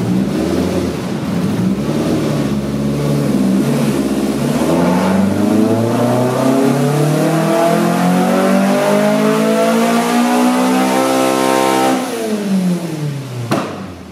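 The engine of a 1983 Volkswagen Rabbit GTI roars through a single full-throttle pull on a Dynapack dyno, its pitch climbing steadily for about ten seconds before the throttle snaps shut and the note drops away.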